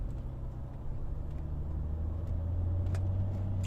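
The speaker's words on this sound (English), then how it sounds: "A lot of traffic on the road at this time of day." Road traffic near Paphos Harbour, a steady low rumble of passing cars that swells slightly as a vehicle draws closer, continuous with no voices.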